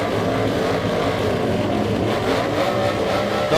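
Speedway race car engines rev high and hard in a continuous loud roar, several engines blending into one sustained, slightly wavering drone with no voices on top.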